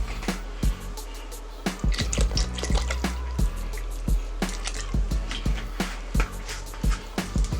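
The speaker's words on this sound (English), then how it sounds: "I'm going to pour in about a cup of half and half" Half and half is poured into a pot of loaded potato soup with sour cream, heard as a scatter of wet drips, splashes and clinks at close range, irregular and fairly quiet.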